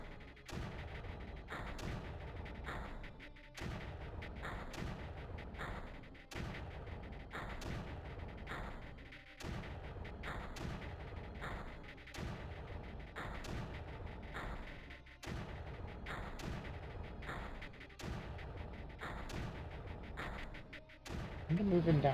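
Repeated mortar launches from a unit in the Creeper World strategy game, steady thumping bursts roughly every second over continuous game music and ambience, with a voice talking over them.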